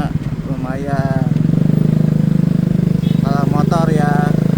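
Motorcycle engine idling and puttering in heavy Jakarta city traffic, a steady near drone running throughout while a person talks over it.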